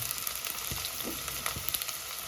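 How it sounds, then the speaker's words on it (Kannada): Onions frying in a pan until golden brown, a continuous close sizzle with occasional soft stirring scrapes and crackles, no talk. "ಗೋಲ್ಡನ್ ಬ್ರೌನ್ ಆಗೋವರೆಗೂ ಫ್ರೈ ಮಾಡ್ಕೊಬೇಕು."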